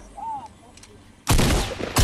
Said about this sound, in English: Menace getting shot.